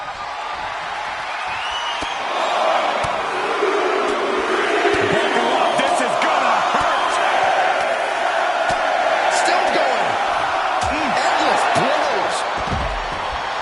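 Arena crowd noise from a WWE 2K25 wrestling match, a steady roar of cheering that swells and holds throughout, with a commentator talking over it.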